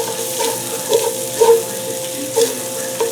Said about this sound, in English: Let this continue to saute a little bit.